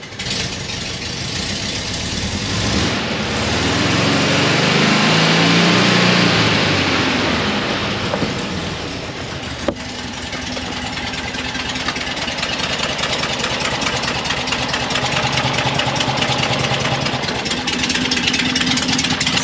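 A Porsche 912 engine, still needing tuning, idles steadily and loudly nearby, a continuous rough rumble with a slight surge early on and no talking.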